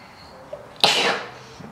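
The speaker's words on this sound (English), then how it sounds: "I'm just about to sneeze." A single sharp sneeze bursts out loudly near the middle, preceded by a faint inhale and trailing off into quiet room tone.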